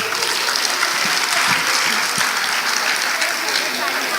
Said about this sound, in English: We should encourage the innocence of these little children by giving them a louder round of applause.